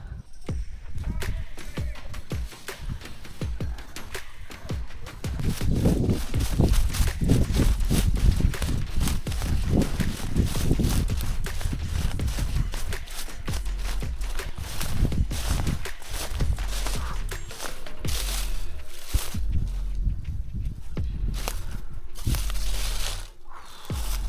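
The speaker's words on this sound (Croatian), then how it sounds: "Ovo mora biti vepar!" Something moves through the forest during a wild boar driven hunt in Croatia, with repeated crunching, rustling thuds of steps through leaves and brush that grow heavier midway, close and continuous.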